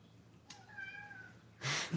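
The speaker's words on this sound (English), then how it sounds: "He has such a girly meow." A single high, thin cat meow, drawn out and slightly whiny, followed by a short rustling noise.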